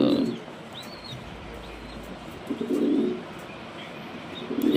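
Pet pigeons kept in a home loft coo softly and repeatedly in low, throaty murmurs, with several overlapping calls at close range and a few light chirps in the background.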